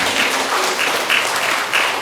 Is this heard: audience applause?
yes